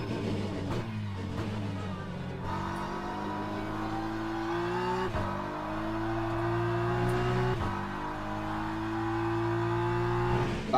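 A BMW race car engine drones steadily in Le Mans Ultimate, loud and close, with a few sharp gear-change blips and a gradual rise in revs over about ten seconds.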